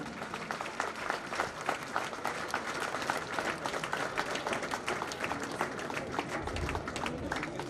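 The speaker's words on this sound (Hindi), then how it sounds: "दर्शकों से अनुरोध है, एक बार जोरदार तालियां।" A crowd at a Republic Day parade claps steadily, dense and sustained applause throughout, fairly loud and close, with no voices standing out.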